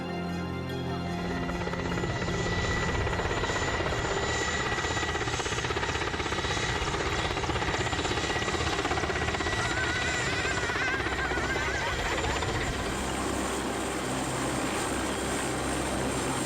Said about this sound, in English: There comes a helicopter for them?